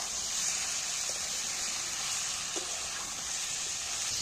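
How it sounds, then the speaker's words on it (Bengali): Mutton being stir-fried with spices in a pan, a steady, even sizzle and hiss of frying meat with faint occasional stirring scrapes, continuous and moderately close. "এইবার কষাতে থাকবো।"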